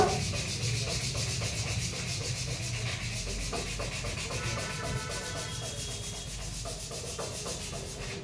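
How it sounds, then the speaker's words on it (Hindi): Emery paper rubs back and forth over the rusty surface of a metal anvil in quick, steady, gritty strokes. The sanding is close, continuous and fairly loud for about eight seconds, with no voices. "रस्ट हटाने के लिए हम एमरी पेपर का यूज़ करते हैं"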